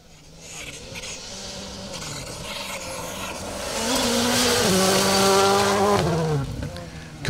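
Skoda Fabia R5 rally car on a 4WD stage of the Woodpecker Stages Rally, its engine note rising and falling through gear changes and swelling louder as it passes close by, with a brief sharp burst at the end.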